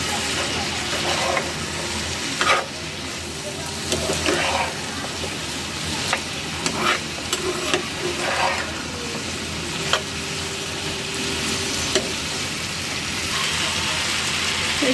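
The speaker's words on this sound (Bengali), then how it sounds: "এই যে ঢেঁড়স চচ্চড়ি করার জন্য মশলাটা কষিয়ে নিচ্ছি।" Okra, potatoes and shrimp frying with spices in a pan, stirred with scraping strokes over a loud continuous sizzle, with steady rain-like hiss in the background.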